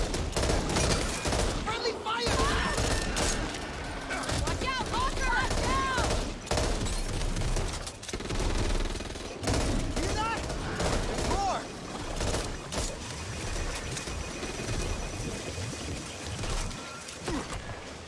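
Rapid gunfire from zombie shooting in Back 4 Blood, dense bursts continuing nearly nonstop and loud, with speech-like voices and game chatter mixed underneath.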